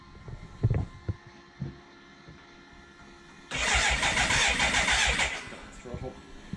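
BMW K100 motorcycle engine cranking and firing up, then revving with throttle blips for about two seconds before dropping back; voices talk nearby before the start.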